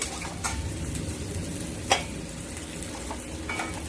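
Chilli chicken stir-fried in a pan over a high flame gives a steady, close sizzle, with a few sharp spatula knocks against the pan scattered through it.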